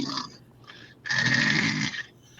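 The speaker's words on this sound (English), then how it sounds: "It sounded like a sleep apnea snore or something." A loud, ragged snore like a sleep-apnea gasp, with a faint snorting breath first and then a long, harsh rasping inhale for about a second, close and with no talking over it.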